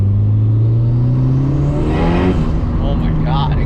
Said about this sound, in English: I kind of like that turbo sound that it makes.